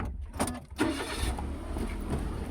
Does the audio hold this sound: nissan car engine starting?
yes